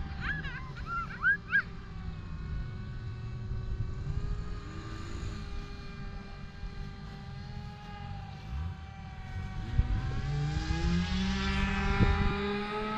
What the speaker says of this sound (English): Who's that plane down there?